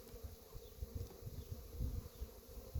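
Honeybees in small overwintered mating nucs give off a faint, close, steady buzz with soft low thumps of movement. The hum sits low, and no one speaks.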